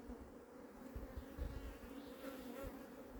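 Honeybees buzz at hive frames in a steady, low hum with soft thumps and rustles nearby, no voices, quiet overall.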